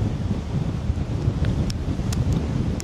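Strong wind in Menorca buffets the microphone in a steady, loud roar with low rumbling gusts and no voices.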